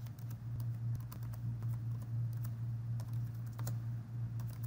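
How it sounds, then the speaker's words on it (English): Rapid soft key taps as a note is typed on a computer keyboard, quiet and steady over a constant low electrical hum, with no voices. "and I will type in my note."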